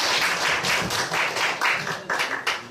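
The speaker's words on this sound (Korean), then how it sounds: "박수로 환영합니다" An audience claps in steady, fairly loud applause to welcome a speaker at a knowledge communicator contest, with rhythmic bursts continuing throughout.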